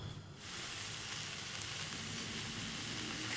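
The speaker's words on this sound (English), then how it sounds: "get the leeks into the frying pan" Leeks sizzle in extra virgin Greek olive oil in a frying pan, a steady close crackling hiss that starts abruptly after a brief quiet moment and continues unbroken.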